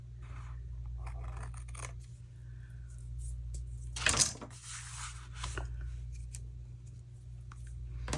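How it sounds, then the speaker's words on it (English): Scissors trimming the top edge of paper for an Iceland travel envelope journal, a few quiet snips with one louder crisp cut in the middle, close over low room hum. "to just trim this top off a hair. Let me get some scissors here."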